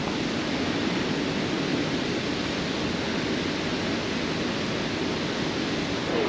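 A steady, dense rushing of water fills the clip, constant and loud like a nearby waterfall, with no pauses or voices.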